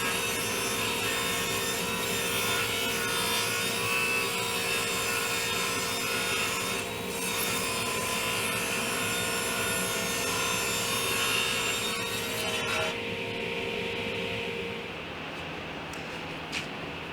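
Steady, continuous sawing through wood to trim the top half of a farmhouse table base, a loud, sustained rasping drone that stays even for most of its length before easing off near the end, with no talking.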